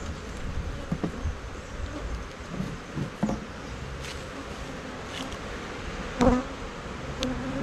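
Honeybees buzz around hive frames during a honey harvest at an apiary, a soft steady droning hum with a few louder passes of individual bees close by and occasional faint knocks.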